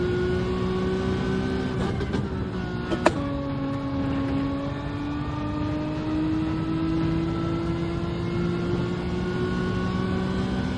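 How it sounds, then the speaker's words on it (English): A car engine in Gran Turismo 7 holds steady high revs against the rev limiter, a continuous droning buzz with a sharp click near the start, alone without talk. "And the rev limiter as well"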